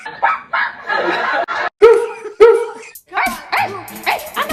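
A person imitates a dog with a run of short, sharp barking sounds made by voice, mixed with chuckles and laughter from others talking nearby.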